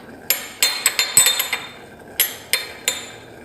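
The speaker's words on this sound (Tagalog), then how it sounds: "Yung garlic pala is na ano ko, na i-crush ko siya." Garlic cloves being crushed for cooking, heard as sharp metallic and glassy knocks up close: a fast cluster of strikes, a short pause, then three more spaced blows, with no talk.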